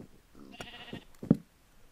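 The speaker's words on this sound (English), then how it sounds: "Come here, sheep." A sheep in the Minecraft video game gives a short bleat at close range, brief and moderately loud, with a few soft clicks and game noises around it.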